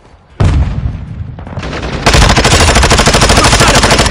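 Video game combat: a sudden loud blast from a grenade, then sustained rapid automatic gunfire with dense repeating shots that grows even louder and continues to the end, no voices.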